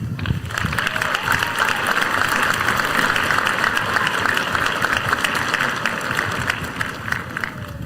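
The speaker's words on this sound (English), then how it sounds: "Please give yourself a big round of applause." Graduates at a high school completion ceremony applauding, a dense, sustained burst of many hands clapping in a large room, loud and steady for several seconds.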